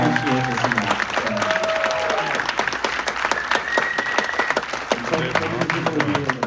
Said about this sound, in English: Please, a huge round of applause for these guys.